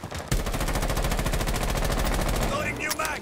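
Buck's rifle in Rainbow Six Siege fires a long, loud, rapid automatic burst lasting nearly three seconds, each shot close and evenly spaced, with a brief gap before and the burst ending abruptly.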